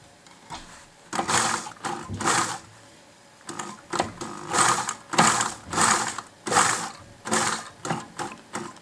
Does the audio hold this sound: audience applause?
no